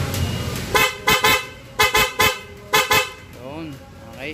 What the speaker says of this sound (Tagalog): Okay, loud horn with passing